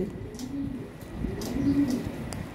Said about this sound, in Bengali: এই যে ভালো ব্লাডের 1 পেয়ার কবুতর